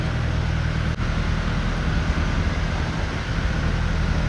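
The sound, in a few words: ferry boat engine running during ride in Mangalore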